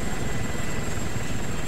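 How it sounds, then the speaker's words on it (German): A helicopter in the video game DayZ Epoch gives off a constant loud rotor and engine whir that fills the short stretch evenly, with no voices. "das ist wieder der Hubschrauber da unten"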